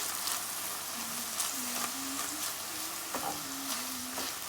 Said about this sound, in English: We're gonna mix now.